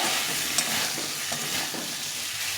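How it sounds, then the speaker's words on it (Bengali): Peas being sautéed with spiced potatoes in a pan, a steady close sizzle with soft stirring scrapes running throughout, no voices. "মটরশুঁটিটাও দেখো কত সুন্দর সবুজ আছে এটা কষিয়ে নিলাম"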